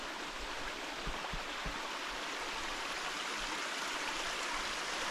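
Small mountain stream in autumn near Lac de Kruth and Lac des Corbeaux in France, a soft steady rushing trickle of water heard alone, faint and close, with a few low bumps near the start.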